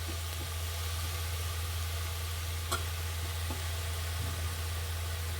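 Spinach frying in oil in a pan for palak pappu saaru: a steady, even sizzle runs throughout beneath a low constant hum, with one sharp click and a few faint stirring scrapes, and no talk.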